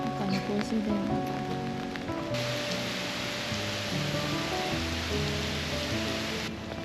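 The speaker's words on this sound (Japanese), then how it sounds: "雨がしとしと降ってるのでちょっと雰囲気がいいと思います。" Light drizzle falling around a park with benches in Seoul, a steady soft hiss of rain on surfaces that grows denser midway and keeps going with no voices.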